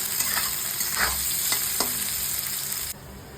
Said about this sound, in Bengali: বেশ হালকা করে ভেজে নেবো